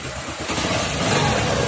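TVS Star City 110 motorcycle engine firing up after a full engine rebuild, a loud close sputter settling into a steady running rumble.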